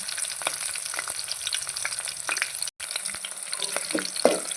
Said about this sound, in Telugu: ఆయిల్ హీట్ ఎక్కిన తర్వాత అండి ఫస్ట్ మనం పచ్చిమిర్చి తాలింపు వేసుకోవాలి